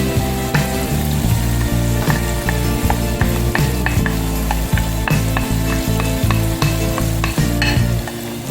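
Scallion stirred into a pan of Jamaican corned beef frying loudly, a steady close sizzle with repeated scraping strokes of the spoon against the pan throughout.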